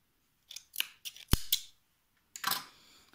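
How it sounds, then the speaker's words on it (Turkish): Scissors snip off the excess yarn after tying a crocheted amigurumi keychain figure, a handful of short, close, crisp cuts clustered in two bursts with a pause between. "Sıkıca bağladıktan sonra bu ipimin fazlasını kesiyorum."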